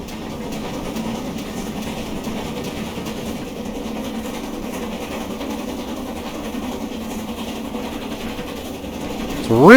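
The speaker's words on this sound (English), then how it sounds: "Really good sounding locomotive." GWR Manor 4-6-0 steam locomotive in Train Simulator Classic, a steady rumbling run with soft rhythmic rail clatter at an even level, rising sharply at the very end.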